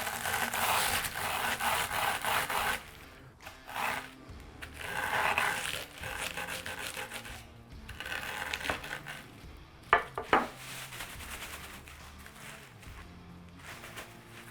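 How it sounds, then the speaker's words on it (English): Tortilla or potato chips crushed by hand inside a sealed bag, a dense crackling crunch in close bursts that pause and resume, with a couple of sharper crinkles near the end. "Get a rough crush going with our hands."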